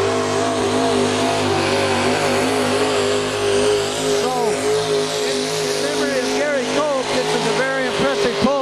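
A loud pulling truck engine roars and revs steadily at a truck and tractor pull, its pitch rising and wavering toward the end, with crowd noise and a voice mixed in underneath.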